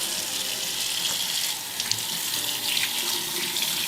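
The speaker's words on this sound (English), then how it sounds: "we're gonna actually take it over to the sink and rinse it off real quick" Water runs steadily from a sink faucet as raw chicken breast is rinsed beneath it, a continuous close hiss and splash with small shifts as the meat moves under the stream.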